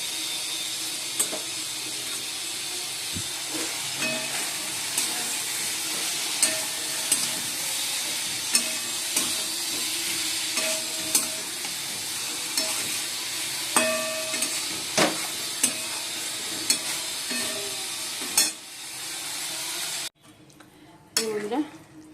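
Potatoes, tomatoes and pointed gourd sautéed in spiced oil in a pan, a steady close sizzle broken by regular spatula scrapes and taps against the pan, fading briefly near the end.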